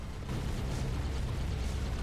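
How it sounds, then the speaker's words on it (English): Explosions in the space-combat video game Everspace 2 rumble as a continuous heavy, low booming roar that stays loud and dense without pause. "Nice explosions."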